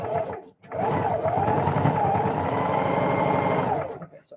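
A sewing machine runs in one steady, fast whirring burst of about three seconds while stitching fabric for a Christmas bucket, close and loud, with no talking.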